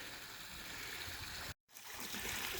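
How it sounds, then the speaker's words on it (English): Pool pump filter running creek water through a 5-gallon bucket, a steady broadband rush and trickle of flowing water with one brief dropout. "That pump filter thing running."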